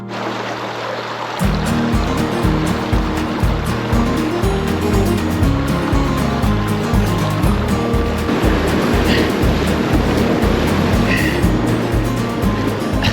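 Sandy River flowing beside a boat, a continuous loud rushing wash of water with a low rhythmic churning pulse underneath, steady from start to finish after a brief quieter opening.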